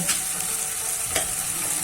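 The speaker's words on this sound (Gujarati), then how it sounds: "પેસ્ટ બનાવી છે તે આપણે વઘારી નાખીશું" Steady hot-oil sizzle and spatter of a spice paste tempering in a pan for kadhi, continuous and close with a brief louder crackle midway.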